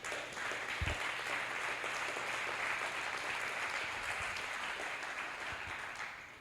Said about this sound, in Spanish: Dele un aplauso al Señor y sigamos adelante.